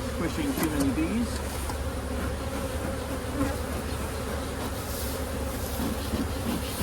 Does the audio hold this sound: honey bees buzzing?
yes